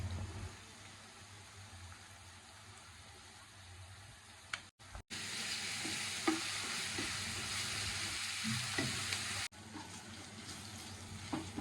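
Ginger garlic paste sizzles and fries in hot oil in a village kitchen while a spoon stirs it, a steady broad hiss with occasional scrapes, close and continuous, briefly cut off twice.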